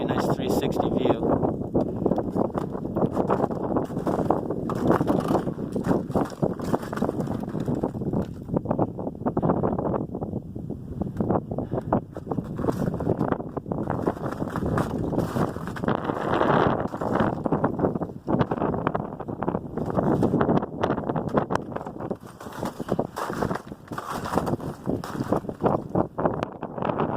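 Strong wind buffeting the microphone at the icy summit tower of Mt Blue in Weld, Maine, during a winter snowshoe hike, a loud continuous roar with gusting surges and no pauses.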